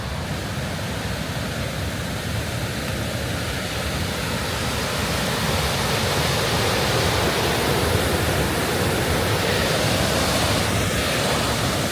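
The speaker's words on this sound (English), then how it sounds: "I don't know if you can hear me above the noise from the waterfall" A waterfall roars beside a stone bridge near a village of old cabins in Norway. The rush is loud, close and unbroken, a dense wash of falling water that swells slightly and never pauses.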